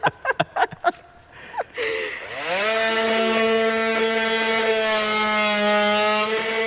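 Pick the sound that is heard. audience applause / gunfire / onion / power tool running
power tool running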